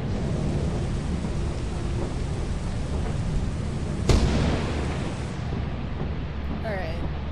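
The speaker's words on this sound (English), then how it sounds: "Oh, it rained." Heavy rain hisses steadily in the Lethal Company video game, broken midway by a sudden sharp thunder crack followed by a rumbling tail, with faint other sounds near the end.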